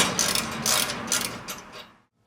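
A ratchet wrench clicks in quick bursts while removing exhaust bolts on a 2011 C6 Corvette, close and crisp, several short ratcheting runs before falling silent.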